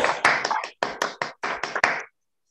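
A handful of sharp hand claps from a small online audience after a physics school talk, spaced irregularly over about two seconds, close and dry, then silence.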